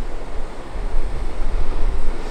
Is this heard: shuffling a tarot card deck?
no